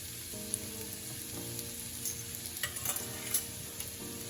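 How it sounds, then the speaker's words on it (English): Fried rice with oyster sauce is stirred in a hot pan: a steady low sizzle with scattered scraping and clacking of the utensil against the pan, close and fairly quiet. "give it a good stir so that it's mixed up really well"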